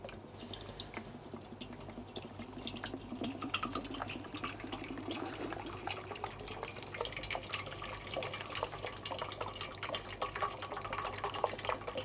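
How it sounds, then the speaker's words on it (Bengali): Water poured into a bowl, a steady trickling and splashing stream running throughout at moderate volume. "এই বোলটা নিলাম কেমন এখন কি করবো এটা আমি পানি দিব"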